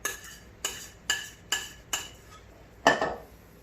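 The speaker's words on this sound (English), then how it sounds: "I think Jason likes it when I scrape a lot." Black raspberry cobbler batter scraped out of a bowl with a utensil: six distinct scraping strokes in a steady rhythm, the last one louder, with no talking.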